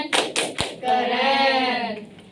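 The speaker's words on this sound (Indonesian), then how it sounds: "yuk kita kasih tepuk keren dulu kayu. Lihat temannya, tepuk keren." A classroom of pupils gives a rhythmic clap: three sharp, close hand claps in quick succession, followed by the group chanting together in unison.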